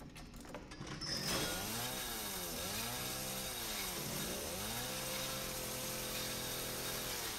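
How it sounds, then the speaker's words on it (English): A chainsaw in the Resident Evil 7 video game revs up after a brief lead-in, then runs loud and steady, its engine pitch swinging up and down in repeated surges as it cuts, with no talking over it. "I don't think chainsaws can cut through metal."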